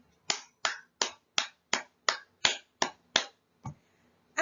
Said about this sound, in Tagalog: Gusto kong bigyan nyo ang inyong mga sarili ng 10 palakpak dahil napakahuhusay ninyo.